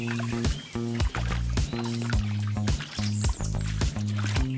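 Feet in waterproof socks wading through a stream, rhythmic sloshing and splashing steps repeating about once a second, close and fairly loud over a steady low hum.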